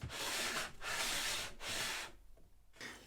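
A simple wooden jig made of three pieces of wood slides back and forth along a table saw fence in several long rubbing strokes, close and fairly loud, with brief pauses between passes.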